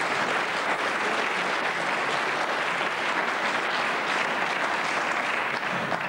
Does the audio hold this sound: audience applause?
yes